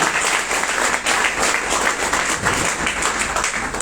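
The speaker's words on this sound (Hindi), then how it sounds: "मैं चाहूंगी मिस्टर विजय सोनी जी के लिए एक जोरदार तालियां होनी चाहिए।" Loud, dense applause for the host at an IMC business achievers' celebration, a steady wall of clapping from a large audience close by.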